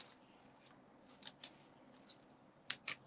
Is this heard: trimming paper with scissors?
yes